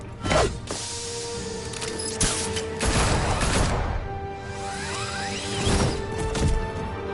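Enemy gunfire aimed at Batman in a video game: sharp bursts and a rattling volley crack out between whooshes and mechanical clatter, loud and close over a steady hum.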